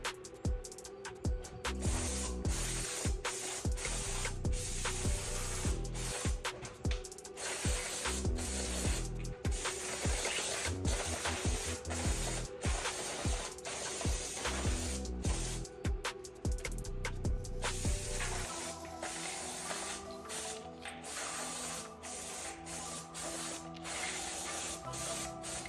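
Water sprayed onto a rifle over cardboard before masking, a loud continuous hiss broken by repeated short trigger pulls and brief pauses.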